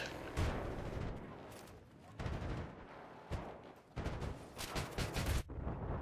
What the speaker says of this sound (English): the grenade blew up my C4 and killed me